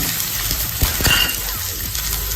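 Sliced onion, capsicum and long-cut carrot sautéing in oil over a high flame for veg Hakka noodles, a steady close sizzle with a few clinks of a utensil against the pan.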